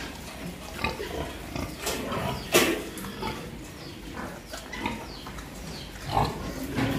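Pigs raised for meat grunt and squeal in a farm pen, a cluster of close, irregular snorts and short squeals overlapping with rustling and shuffling, with the loudest cries coming in sudden bursts.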